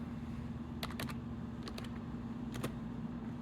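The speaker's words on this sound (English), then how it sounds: "We're going to type in stepper" Fingers tap out a few short bursts of keystrokes on a computer keyboard, quiet and close, over a steady low electrical hum with no talking.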